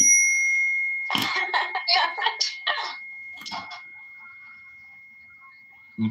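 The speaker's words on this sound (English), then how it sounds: "let me hit the bell for repetition." A desk bell on a political podcast gives one bright ring that hangs and slowly fades for several seconds, with a brief spoken phrase over its start.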